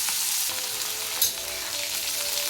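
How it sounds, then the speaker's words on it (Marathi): Chopped capsicum frying in hot oil with cumin seeds, a dense continuous sizzle heard up close, with one brief sharper crackle partway through and no talking. "जिरे टाकल्यानंतर चिरलेली ढबू मिरची टाकायची."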